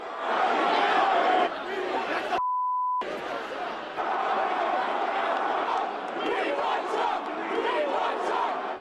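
A dense, loud crowd shouts and scuffles in a street brawl, the clamour continuous and close, briefly cut by a steady electronic beep before the uproar resumes.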